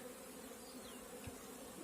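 Faint, even droning of honey bees at a hive during spring colony work, a soft continuous buzz with no other sounds.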